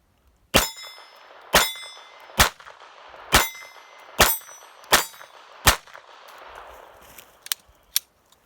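A Femaru 37M .32 ACP pistol fired one-handed outdoors, seven sharp, evenly spaced shots ringing with a metallic clang, followed by two quieter clicks as the magazine runs empty.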